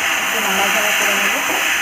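Potatoes fry in white oil in a kadai while being stirred, a dense steady sizzle and hiss that continues without break, loud and close.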